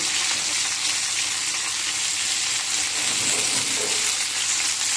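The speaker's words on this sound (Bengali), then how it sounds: "এখন এর সাথে আমি দিয়ে দেবো কেটে রাখা টমেটো কেটে রাখা একটা গোটা পেঁয়াজ" Chopped tomato and onion fry with eggplant in a pan, making a steady close sizzle with a bright continuous hiss and faint crackles, no talk over it.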